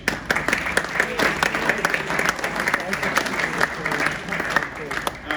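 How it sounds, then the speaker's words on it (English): A presentation-night crowd at a football club awards event applauds as a player walks onto the stage, sustained clapping from many hands at moderate distance, even and lively throughout. "And another round of applause as he makes his way onto the stage."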